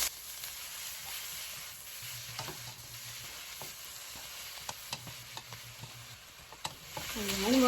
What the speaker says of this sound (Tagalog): Now let's cook our ground beef